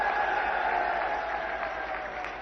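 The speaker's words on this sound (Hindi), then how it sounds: "जोर से ताली बजाओ सैनी जी के लिए" Applause from a crowd at a political rally in Haryana, a steady broad wash of clapping lasting the whole moment, moderately loud and continuous with no talk over it.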